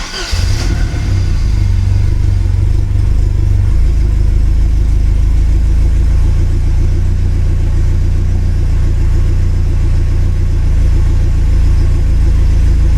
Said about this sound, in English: let's get in, fire up the car again